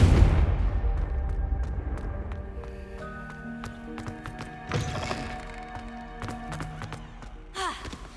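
Confringo blast spell in Hogwarts Legacy on hard mode, a heavy booming impact that rumbles and fades, followed by scattered crackling, tonal magic effects and a few sharper thuds later.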